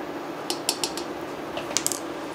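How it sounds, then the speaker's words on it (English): Oatmeal with cinnamon whisked in a pot, a few quick clicking taps of the whisk against the pot in two short bursts, close and fairly light, with no talking. "I'm just gonna give it a quick whisk"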